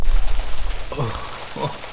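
Steady rain pours down on a rainy night in the video game Retaliation, a constant wash of hiss with soft low rumbles, while a voice murmurs briefly.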